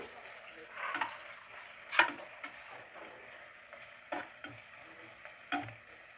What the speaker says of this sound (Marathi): कांदा थोडासा फ्राय झाला की आपण टाकून घेऊ अद्रक लसूणची पेस्ट ही मी एक चम्मच घेतली आहे याला पण कांद्यामध्ये छान फ्राय करून घेऊ